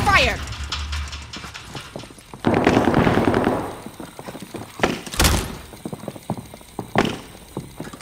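Gunfire in a battle-royale video game, a loud burst of rapid shots in the middle with scattered single shots and thuds afterward, mixed with talk and game sounds.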